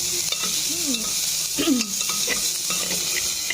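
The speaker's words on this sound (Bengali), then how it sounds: "এখানে মাংসটা ভাজতে শুরু করে দিয়েছি" Mutton pieces with bone fry in a pan alongside large carrot chunks, giving a continuous loud sizzle with stirring scrapes and a few faint chirping sounds in the background.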